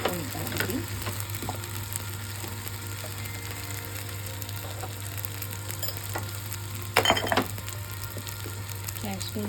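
Turmeric and Kashmiri chilli fry with onions in oil for mutton dum biryani, a low steady sizzle under a constant hum, with repeated scraping stirs and a louder burst of clattering near the end.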